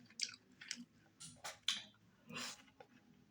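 Chewing okra stew with cow skin tripe and fufu, wet squishy bites and smacking mouth sounds coming in several close bursts, loud and near, with no talking.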